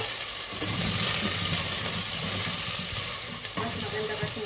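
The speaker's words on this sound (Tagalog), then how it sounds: "ipa-fried natin yung patatas" Potatoes frying in oil in a pan give a steady, close hiss and sizzle with light stirring noises throughout.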